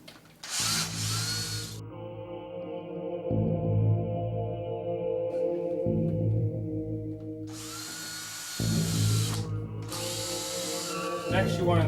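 Power drill driving 3-inch drywall screws into 2x3 boards, with several loud close whirring bursts that rise in pitch as the motor winds up, separated by brief gaps.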